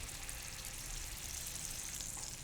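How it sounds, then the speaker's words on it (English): Bottom round beef searing fat-side down in a hot pan, giving a steady, even sizzle that stays at a constant level throughout with no voices. "going into a hot pan, and I'm actually gonna go fat down first"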